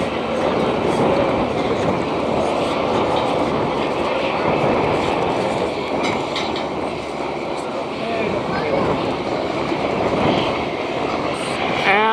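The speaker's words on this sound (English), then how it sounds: "there's a private jet taxiing in" A private jet taxis in on the tarmac at Camarillo airport, its engines a steady, broad roar that stays loud throughout with a faint rattle and no pause.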